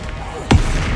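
A single Bombarda or Confringo spell blast in Hogwarts Legacy lands as a sharp, booming burst midway, close and loud over a steady game background.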